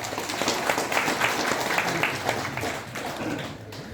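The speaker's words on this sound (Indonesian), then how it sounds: "Tepuk tangan untuk kita semua Pak." Applause from an audience at a gathering about madrasahs and Islamic boarding schools in NTB, Indonesia: steady, dense clapping sustained throughout at moderate loudness, fading slightly near the end.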